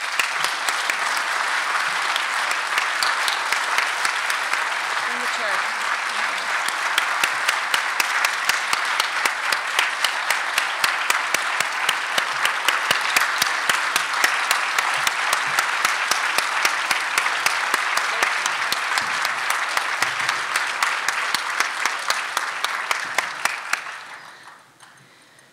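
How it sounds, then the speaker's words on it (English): Sustained applause from a large audience at a leadership conference plenary session, dense steady clapping lasting over twenty seconds before fading out at the end. "if we could all give another round of applause to Joanne"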